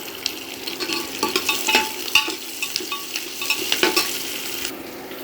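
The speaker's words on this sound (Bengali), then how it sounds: "এইবার থেতো করে রাখা আদা রসুনের পেস্টটাও দিয়ে দিলাম" Crushed ginger-garlic paste hits hot oil in a pan, giving a steady close frying sizzle with scattered stirring scrapes and clinks, and no talking.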